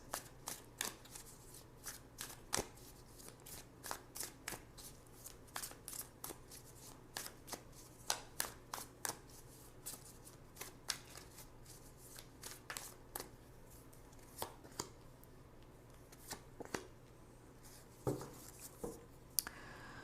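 Tarot cards are shuffled by hand in soft, repeated riffles and taps, quiet and close, with no talking.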